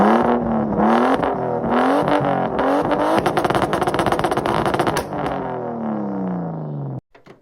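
A turbocharged Lexus IS200 drift build with no exhaust fitted runs loud and raw, revving repeatedly with harsh rasping bursts before settling, then cutting off near the end.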